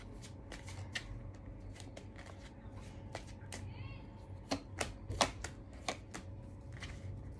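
Tarot cards are shuffled in a rapid series of crisp riffling snaps and flicks, several sharper bursts near the end, over a steady low background hum.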